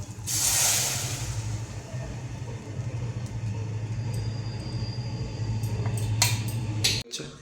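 Butter chicken gravy spice paste hits a hot wok (kadai) and sizzles: a loud burst of hiss at first that settles into a steady frying crackle over a low hum, cutting off abruptly near the end.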